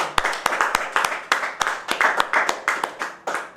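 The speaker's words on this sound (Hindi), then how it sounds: "प्लीज सब लोग एक जोर से ताली बजाइए।" An audience at an Independence Day event claps steadily, with sharp irregular hand claps that build into brief, moderately loud applause.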